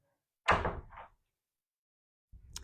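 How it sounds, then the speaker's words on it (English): An indoor door swings shut with one soft thud and a short rattle, then silence, then a faint muffled bump or shuffle near the end. "I'll close the door on you."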